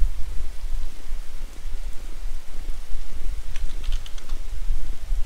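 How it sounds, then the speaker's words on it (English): Rain falls steadily in a video game set in a mental asylum with mutant spiders, a dense continuous patter of drops, fairly loud and close, with a few brighter ticks near the end. "Look at us. It do be raining."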